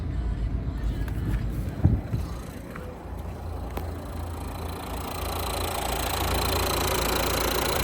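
A 2020 Renault Megane 4 with a 1.5 diesel engine and automatic gearbox idles steadily nearby, a low even rumble with a faint knock. A brief bump comes early on, and the hum grows slightly louder toward the end.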